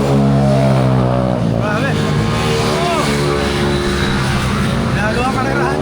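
Vehicles racing along a mountain road near Antipolo, engines roaring loudly and revving up as they pass close by, with people talking and exclaiming over the noise.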